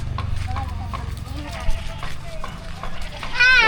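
Goats at a farmyard hut give short bleats beneath steady talk and background noise, with a louder wavering call near the end.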